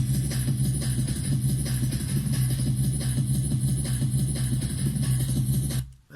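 A breakbeat drum loop plays back in Ableton, a steady, dense, busy pattern of kicks, snares and hats at even volume that cuts off abruptly near the end, with no talking.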